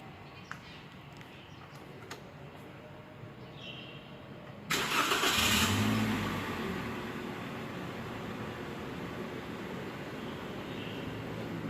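A car engine, warmed to its 85–95 °C working temperature for an emissions check, is started about halfway through. A loud crank catches and settles into a steady, close idle after a quiet stretch.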